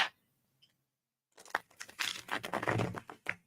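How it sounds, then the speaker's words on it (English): Tarot cards being shuffled by hand, a close burst of papery riffling and crinkling after a near-silent start, ending with a final snap. "get these cards properly shuffled"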